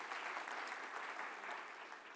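A crowd at a panel discussion breaks into applause on command, a continuous wash of many hands clapping together, even in level and slightly distant, with no voices over it.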